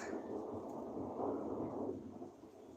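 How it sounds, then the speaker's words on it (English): Thunder during a rainstorm, a faint low rolling rumble that swells and lingers for a couple of seconds before fading, heard from indoors with no talk. "It is doing outside. The thunder, the lightning, and everything."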